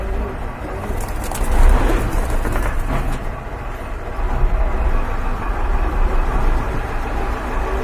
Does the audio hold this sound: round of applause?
no